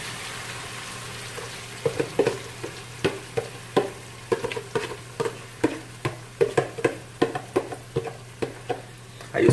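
An eggplant mix fries in vegetable oil in a pan, with a steady low sizzle broken by repeated sharp scraping and stirring strokes in an irregular rhythm, close and alone.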